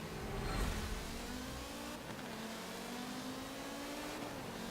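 Audi race car engine in Forza Motorsport 7 drones steadily throughout, a sustained mid-pitched tone rising slowly, with a brief louder rev burst early on; no talk.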